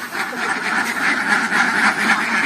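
A flock of Pekin ducks on a village duck farm keeps up a dense, continuous quacking chorus, many birds calling at once with no pauses.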